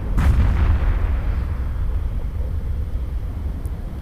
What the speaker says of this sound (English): Beautiful explosion.